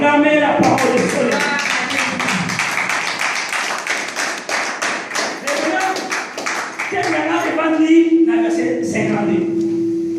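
A church congregation claps together in a steady rhythm, a loud, close run of hand claps mixed with voices and tonal sound.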